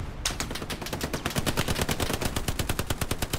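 Machine gun fire in the World War II shooter game Hell Let Loose: a loud, steady, rapid stream of shots rattling continuously for the whole stretch, close and dense, with no talk over it.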